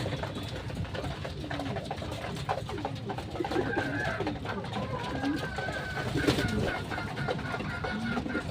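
Racing pigeons being trained to fly a loop, cooing over and over at close range against a busy background.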